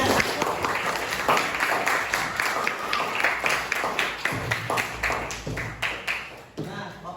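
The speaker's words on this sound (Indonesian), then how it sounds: "Oke, kasih tepuk tangan dulu buat temannya." Scattered clapping from students in a junior high classroom, a brief round of uneven claps with some talk mixed in, fading out toward the end.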